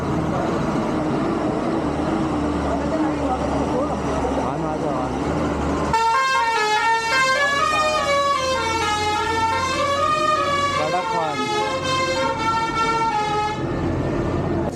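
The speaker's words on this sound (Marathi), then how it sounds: "आमचा त्या गाडीचा हॉर्न तुम्ही बघतो आता वाजवतोय" A loud horn on a Hyundai i20 car blares for about eight seconds, its pitch wavering up and down like a musical tune, over steady outdoor background noise.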